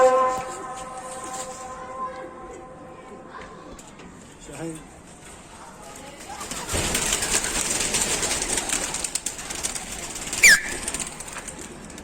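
A flock of hundreds of pigeons takes off in a noisy flurry of flapping wings after quieter moments with voices in the background, with a sharp chirp near the end.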